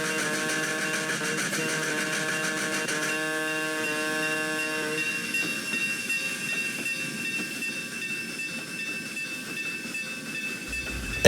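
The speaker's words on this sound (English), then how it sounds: "A big 484 locomotive came in," A large 4-8-4 steam locomotive pulling a passenger train sounds a multi-tone steam whistle, held then fading, over a steady hiss and rolling rail noise.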